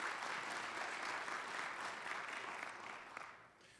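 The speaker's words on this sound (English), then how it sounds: "Let's give them all a strong round of applause." Audience applause at an evening business event, a steady wash of clapping from a seated crowd that holds evenly and then tapers off near the end.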